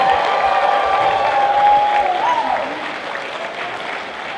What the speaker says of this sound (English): Please give a big round of applause to Kenny and Samantha for your Mario stuff